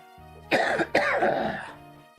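A person coughs twice in quick succession, close and fairly loud, with a trailing throaty exhale.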